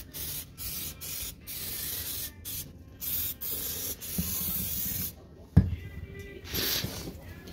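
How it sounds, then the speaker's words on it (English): Short hissing blasts of brake cleaner spray onto a cracked plastic engine valve cover repeat in a broken rhythm, close by, with a sharp knock partway through. "You can see the oil when I spray here"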